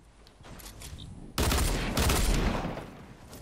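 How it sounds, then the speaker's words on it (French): Fortnite gunfire, a sudden loud burst of rapid shots that cuts in and sustains for about a second before easing, with faint game ambience before it. "Pourquoi tu tires, Joseph?"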